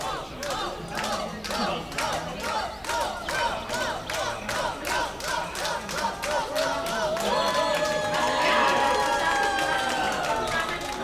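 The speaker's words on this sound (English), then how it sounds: "it says football fans clapping and chanting" Football fans in a stadium crowd clapping in steady rhythmic unison and chanting, a dense loud mass of voices and hands that swells toward the end.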